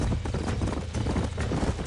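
Horse hooves clip-clopping rapidly and steadily at close range in the Red Dead Redemption video game, a continuous galloping rhythm over a dense background.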